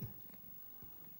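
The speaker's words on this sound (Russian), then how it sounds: "Мурчит." A cat purrs softly at close range, a faint, steady low rumble with gentle pulses and no other voices.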